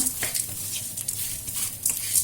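Vegetables being sautéed and stirred in an oiled pan while preparing brinjal rice, with a steady close sizzle and repeated scraping stir strokes throughout.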